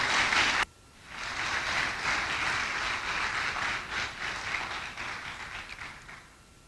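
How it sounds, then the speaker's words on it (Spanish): A large church congregation applauds steadily for several seconds, a dense wash of clapping that slowly thins toward the end. "Alguien dele un aplauso al Señor esta mañana,"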